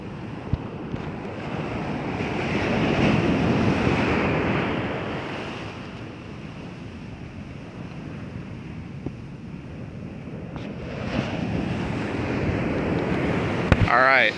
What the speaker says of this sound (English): now that the tide is coming in, the surf is picking up quite a bit